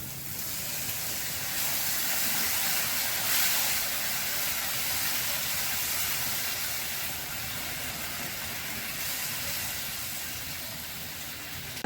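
Masala and water boil in a pan for matar paneer, a steady close hiss and bubbling that runs evenly and grows slightly softer toward the end.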